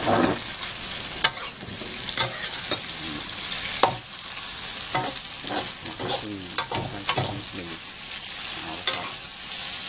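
Shrimp and shrimp paste stir-fried in a pan with stink beans, a steady sizzle and crackle broken by repeated scraping and clanking strokes of the spatula.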